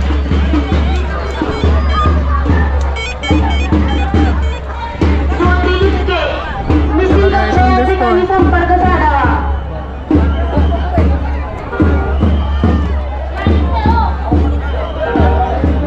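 A large crowd at the Bhima Koregaon memorial pillar in Pune on Shaurya Din makes a dense, continuous babble of many voices close by, with steady low rumble beneath and no pauses.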